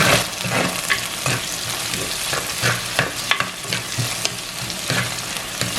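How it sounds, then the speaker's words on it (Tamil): Garlic, green chilies and curry leaves sauté in a pan for a Jaffna snake-bean and chickpea curry, giving a steady crackling sizzle with repeated stirring scrapes throughout, close and fairly loud, with no talking. "2 காம்பு கருவேப்பிலை போட்டு இதை மிக்ஸ் பண்ணி போட்டு வதங்க விடுவோம்"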